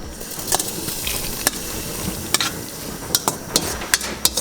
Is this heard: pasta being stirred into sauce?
yes